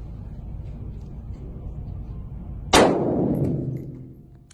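A 5.56 rifle shot strikes a vest plate, giving one sharp, loud metallic clang that rings and fades over about two seconds after a quiet low background.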